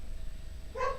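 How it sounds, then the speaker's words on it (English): A puppy gives one short, high yip from the background of a quiet room, faint and brief after a stretch of low hum, with no talking. "you're going to hear my puppy in the background making herself known"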